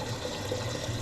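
Tap water runs steadily into a kettle, a continuous close rushing and trickling fill in a home kitchen, with no talking.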